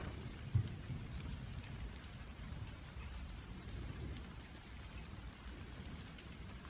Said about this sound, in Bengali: আর তখনই আচমকা প্রচুর বৃষ্টি শুরু হয়।